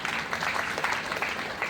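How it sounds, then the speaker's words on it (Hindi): An audience at a Lucknow celebration event claps in a steady, dense patter of applause that runs throughout, moderately loud and fairly even, with no clear voices over it. "जोड़े ताली के लिए।"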